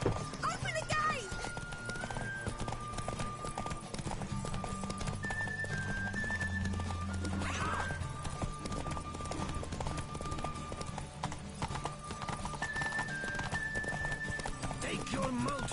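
In The Witcher 3 on PS4, a horse gallops with fast, steady hoofbeats and an occasional neigh, heard over game music and voices talking.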